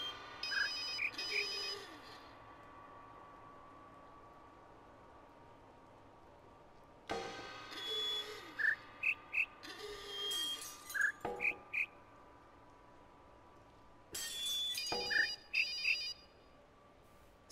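Sound puzzle in the video game The Witness plays short sequences of synthetic musical tones at varying pitches, three faint bursts of quick blips and chimes separated by long quiet pauses.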